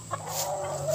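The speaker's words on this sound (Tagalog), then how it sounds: "Aking manok, aking mga manok ah" Backyard chickens cluck close by, a short burst of soft clucks and calls over a low steady background hum.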